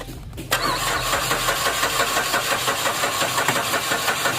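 Ford Escape engine cranking without catching, a steady rapid chugging that starts abruptly after a brief quiet moment and continues loudly and evenly without ever firing up.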